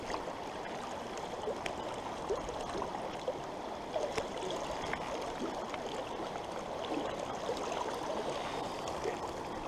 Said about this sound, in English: Nice little small brook.